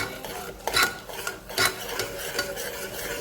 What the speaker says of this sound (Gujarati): પછી એને આપણે હલાવી દઈશું।